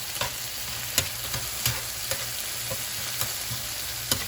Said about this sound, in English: so I'm going to stir it around.